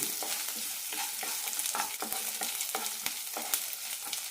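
Sliced onions sautéing in a pan for cabbage chutney, a soft sizzle broken by quick, regular stirring scrapes, fairly faint and close.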